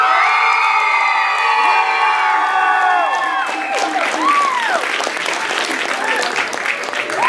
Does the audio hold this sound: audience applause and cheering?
yes